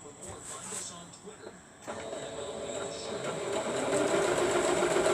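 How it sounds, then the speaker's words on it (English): Sewing machine stitching quilt blocks together for a floor tile quilt, starting softly and building to a steady close whir after a short pause, with a voice talking faintly. "And then I'm sewing them down."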